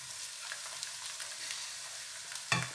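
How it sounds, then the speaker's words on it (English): Vegetables frying in a pan of onion, steady sizzle and light crackle with faint stirring noises, brief louder clatter near the end, no talking. "Onion has been frying, so I'll go ahead and add all the vegetables"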